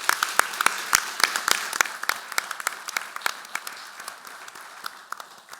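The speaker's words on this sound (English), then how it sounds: "a round of applause to our panelists" Sparse applause from a small audience for panelists at the close of a policy forum, with distinct individual claps ringing out sharply and irregularly and thinning toward the end.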